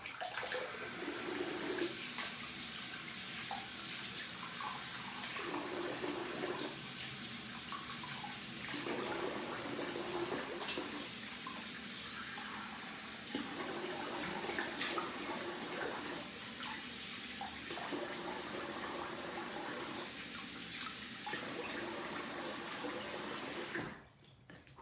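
Bathroom tap water runs steadily into a sink for rinsing after a wet shave, a continuous close splashing stream with brief pauses and changes as hands pass under the flow; no one speaks.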